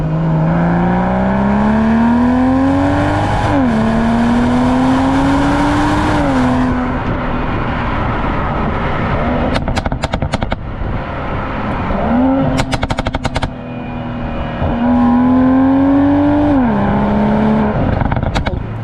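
BMW M340i straight-six engine revs hard and loud, climbing and dropping through several rising pulls with brief shift breaks and crackling bursts on lift-off, close and alone without talk.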